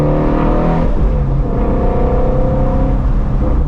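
A Ford Mustang GT350R engine holds high revs, a loud, close, buzzing drone with slight rises in pitch and no talking.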